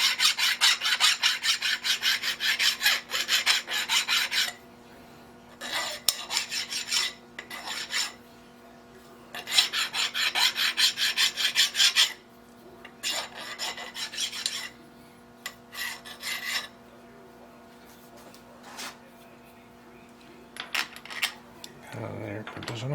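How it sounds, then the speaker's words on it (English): Hand file deburring a freshly turned metal part on a small lathe build, bursts of harsh rasping strokes in irregular runs with pauses, close and fairly loud. "Give it a little bit of a deburr."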